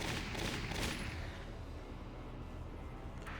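Gunfire from a body shot in the video game Valkyria Chronicles: a loud, broadband burst at the start that decays into a sustained rumbling noise bed, with no voices.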